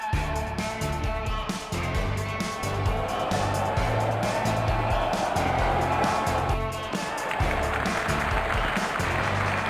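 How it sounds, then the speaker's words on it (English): Crowd in a cricket video game roars and applauds continuously, a dense, loud wash of cheering that holds steady throughout, with no pauses. "Crowd going mad here."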